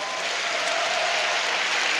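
An audience in a hall at a business presentation claps steadily and densely for two seconds. The applause holds an even level throughout with no talk over it.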